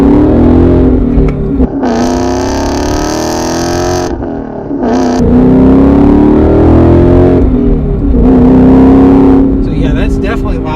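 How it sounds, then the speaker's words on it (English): A 2018-2019 Ford Mustang GT with a Corsa double-helix X-pipe exhaust revs loudly up and down in repeated deep bursts close by, while people talk over and between the revs. "little louder and it's a little deeper, even though it has that double helix Corsa X-Pipe. This definitely sounds different in a very good way"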